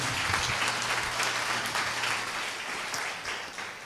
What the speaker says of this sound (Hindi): एक बार जोर से ताली बजा दीजिए अगर सब लोग ठीक हैं।